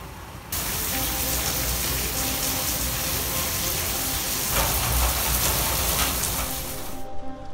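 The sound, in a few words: heavy rain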